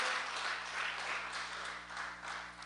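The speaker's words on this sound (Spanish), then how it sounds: "Dale un fuerte aplauso a nuestro Dios." A church congregation applauding, with a soft, steady wash of many hands clapping at a distance, continuous and fairly faint.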